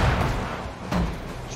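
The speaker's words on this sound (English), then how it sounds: "I just threw like 7 flashbangs." Flashbang grenades going off in the shooter game Killing Floor 2, with a couple of dull, booming thuds over a constant noisy rumble of battle.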